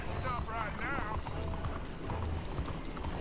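Horse galloping in Red Dead Redemption 2, a rapid clopping of hooves under loud game ambience, with someone speaking over it.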